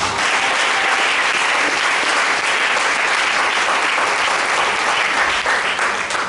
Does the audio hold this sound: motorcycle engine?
no